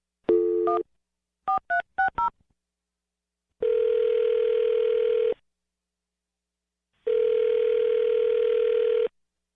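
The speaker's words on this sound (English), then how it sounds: "I'm going to dial her phone number right now" A quick series of telephone keypad tones, then two long, steady ringback tones with silent gaps between, clear and close.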